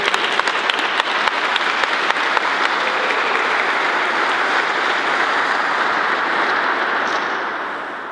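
A church congregation breaks into loud, sustained applause that fills the room evenly for about eight seconds, with dense clapping throughout that tapers off slightly toward the end, and no speech over it.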